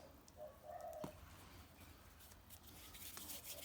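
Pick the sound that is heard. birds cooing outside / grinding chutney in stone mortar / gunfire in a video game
birds cooing outside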